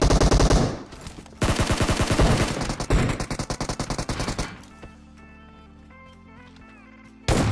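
Close automatic gunfire in PUBG at Pochinki, with rapid bursts of shots in quick rhythmic strings, loud and near, trailing off into quieter game sounds and a final sharp shot.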